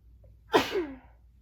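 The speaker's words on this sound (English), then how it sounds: "Oh, am I gonna sneeze? Do I have to sneeze?" A single sharp sneeze bursts out in quiet surroundings, a short intake followed by a loud explosive release that trails off quickly.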